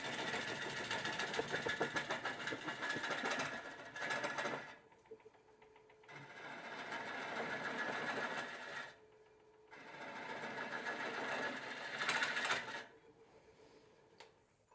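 A wood lathe turns a black walnut bowl slowly at about 415 RPM, a steady mechanical whir broken into three long bursts with brief quiet gaps between them, close and fairly loud with no talking.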